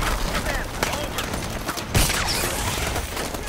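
Gunfire and explosions from Call of Duty: Advanced Warfare during a U.S. assault on Atlas Headquarters in Baghdad, 2061: loud, dense, continuous sustained fire with booms, mixed with radio-style speech.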